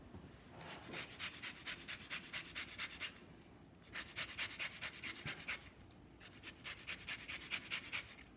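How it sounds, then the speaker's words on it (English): A lemon is rubbed against a zester in steady back-and-forth scraping bursts, three runs of quick rhythmic strokes with short pauses between, close and fairly quiet with no talking. "And then I do a little lemon zest."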